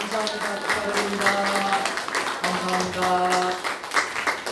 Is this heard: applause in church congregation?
yes